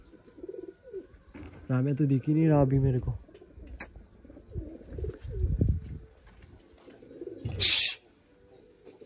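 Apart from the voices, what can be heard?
pigeons cooing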